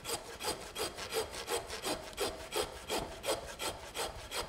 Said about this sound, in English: And you just saw until you actually hear it, you'll hear the bones quit.